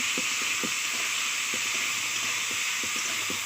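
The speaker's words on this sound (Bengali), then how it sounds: "এটা এখন ভাজতে হবে ভালো করে।" Cooked rice fries in a heated wok (kadai), a constant hissing sizzle with a few quick stirring scrapes in short clusters, close and even in level, without speech.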